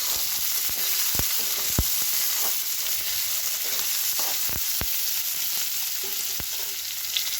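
Chopped onions fry in a pan for upma, giving a steady close sizzle with scattered pops and scraping stirs throughout.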